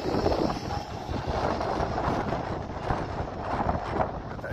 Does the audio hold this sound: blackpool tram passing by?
yes